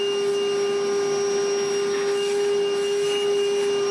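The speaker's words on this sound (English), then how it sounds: "This is our PTO generator" A PTO generator running on a dairy farm gives off a steady, loud mechanical whine with a strong constant hum, unbroken and alone.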